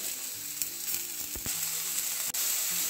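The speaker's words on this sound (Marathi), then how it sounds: "हे सुद्धा आपल्याला तव्यावरती छान असे भाजून घ्यायचे आहेत।" Washed ambadi (roselle) flowers roasting on a hot iron griddle, making a continuous close sizzle broken by a few sharp scrapes and taps of stirring, with no talk.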